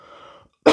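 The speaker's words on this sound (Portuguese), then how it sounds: "eu vou ter que dar uma tossida aqui" A single sharp cough bursts out loud and close after a moment of low background hum, short and harsh with a throaty rasp.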